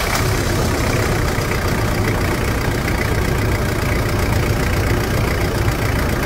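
A Toyota Land Cruiser Prado pickup engine runs steadily at idle, a close, constant low rumble with a dense mechanical chatter that holds evenly throughout with no voices.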